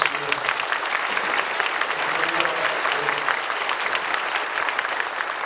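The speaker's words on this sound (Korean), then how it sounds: "여러분 감사의 박수를 해주시면 좋겠습니다" Applause of thanks from a church congregation at a Korean War veterans' prayer service, steady and dense with many hands clapping at once, sustained evenly throughout without a break.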